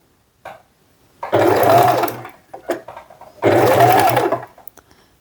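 A sewing machine back stitches at the start of a seam on a fabric bag strap in two loud, close bursts of fast whirring, with short pauses and light handling clicks between them.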